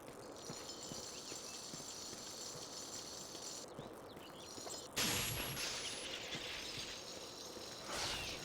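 Horse hooves clip-clopping steadily in The Bard's Tale video game, a continuous even rhythm at moderate volume with a brighter clatter partway through.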